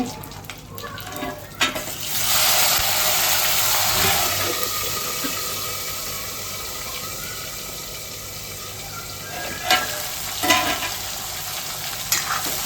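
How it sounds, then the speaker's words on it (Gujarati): Chopped tomato hits hot oil in a Gujarati dal tempering with curry leaves, bursting into a loud steady sizzle that slowly fades, with a spoon scraping and stirring in a few clinks near the end. "હવે આપણે ચમચાને પછી એને મિક્સ કરી દઈશું ટામેટા ગળે ત્યાં સુધી એને શેકાવા દેવાનું"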